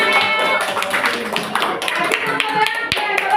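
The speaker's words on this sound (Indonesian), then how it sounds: "Oke, beri tepuk tangan." Children in a classroom clap their hands together, a dense run of quick, overlapping claps that fills the whole stretch at close range with little pause.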